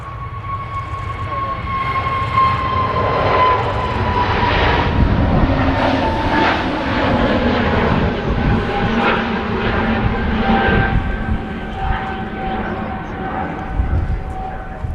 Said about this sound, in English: Scandinavian on the roll now. A320 Neo.